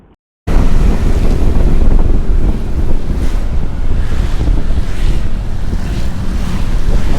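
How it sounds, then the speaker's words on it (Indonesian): Heavy rain pours during a ride on a Honda Forza 250 scooter, producing a loud, unbroken roar of rain and rushing wind buffeting the microphone after a sudden start. "Hujannya gede."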